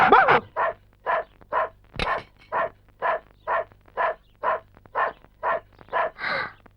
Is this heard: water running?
no